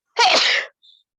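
A single loud, close human sneeze bursts out sharply and fades within half a second, followed by a brief faint sound.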